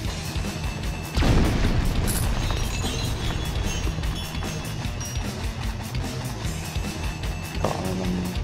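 An explosion in the top-down game Alien Shooter: a sudden loud boom bursting over constant dense gunfire and game noise, with a smaller blast near the end.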